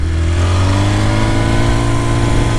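Motorcycle engine running close by at high revs, giving a loud steady drone with strong low harmonics that waver slightly without pausing.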